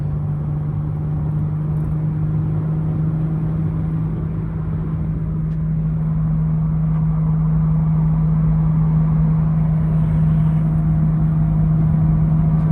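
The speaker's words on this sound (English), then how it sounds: "The car runs and drives excellent. Shifts very well through the gears." A 1976 Datsun 280Z is driven down the road, and its engine gives a steady, loud drone with a constant low hum and road rumble throughout. No one talks over it.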